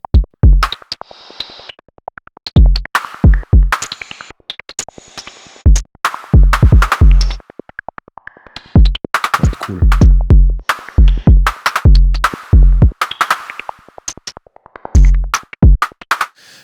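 An electronic drum pattern with punchy kicks and snappy snares in a steady, busy rhythm. A voice speaks briefly near the end.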